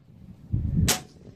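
A single sharp, close report from a Hatsan Hercules .25 caliber PCP air rifle firing a JSB pellet, a short crack after a brief low thump, then quiet.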